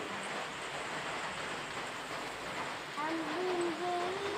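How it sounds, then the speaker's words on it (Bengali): Heavy rain falls in a steady, dense hiss throughout, moderately loud and broad, with a faint whistling or chirping tone near the end. "প্রচুর বৃষ্টি হচ্ছে"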